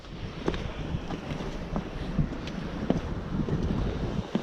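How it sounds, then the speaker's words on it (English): Wind buffets the microphone on an open beach during lure fishing for gilthead bream, a steady broadband rush with low gusty rumble and a few faint knocks, no talking. "I'm actually going to be fishing pretty much straight into the wind here"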